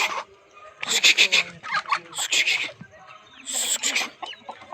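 Chickens on a poultry farm cluck and squawk in loud, bursting calls that come in clusters, close to the listener, with several birds sounding at once and no talk.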